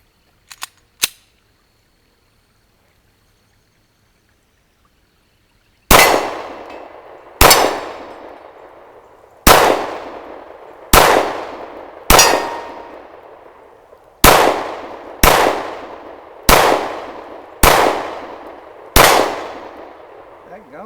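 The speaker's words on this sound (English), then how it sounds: "I'm going to be firing 15 rounds, Glock 19 Gen 3." A Glock 19 Gen 3 pistol fires at steel targets set in a V formation on an outdoor range: about eleven loud, sharp reports with ringing tails, spaced roughly a second or two apart after a few faint early clicks.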